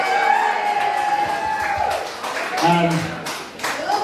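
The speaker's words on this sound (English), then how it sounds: "I think we should give them both a round of applause." Audience applause at an end-of-season awards night for a women's football club, steady clapping mixed with crowd noise and a few whoops, loud and continuous throughout with voices talking over it.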